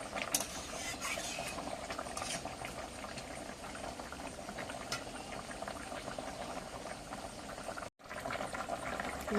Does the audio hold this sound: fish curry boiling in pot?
yes